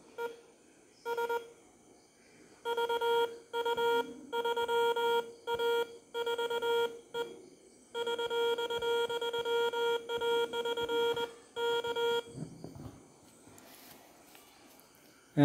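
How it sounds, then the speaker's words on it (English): Morse code CW from an ATtiny13-based keyer, a bright steady beeping tone keyed into short dots and longer dashes in rapid runs separated by brief pauses, clean and loud. "So this is a way you can send the CW."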